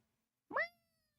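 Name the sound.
voice imitating a cat meowing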